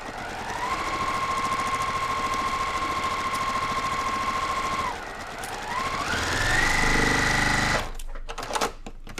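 A sewing machine runs a straight quilt seam at a 2.0 stitch length, a steady whine for several seconds, a brief pause, then a faster burst before stopping, followed by a few soft clicks.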